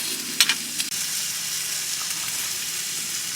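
Meat frying and sizzling on a grill at a snowy winter campsite beside a frozen lake, a steady close hiss with a few brief sharp crackles near the start.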